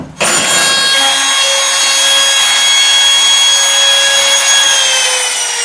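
A router cuts a door hinge recess through a clamped hinge jig, starting abruptly into a loud, steady high-pitched whine with a cutting rasp that holds for several seconds, close by and with no voices.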